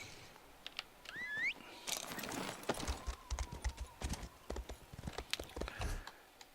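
Horse hooves in the video game Elder Scrolls Online, a quick run of clip-clop steps with a short whinny-like chirp early on, moderately quiet and close.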